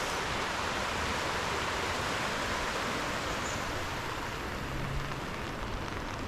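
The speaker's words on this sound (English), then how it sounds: "This is the Bendigo Creek" Bendigo Creek at White Hills running high after heavy rain, a steady broadband rush of flowing water heard from nearby across a road, continuous and fairly quiet with no voices.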